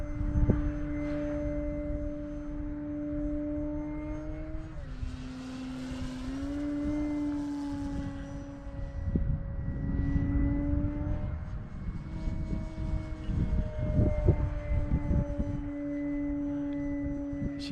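E-flite Carbon-Z C 150T 2.1 m electric RC airplane flying overhead, a steady whining motor drone that shifts pitch as it banks and zips past, fairly near and continuous with no voices.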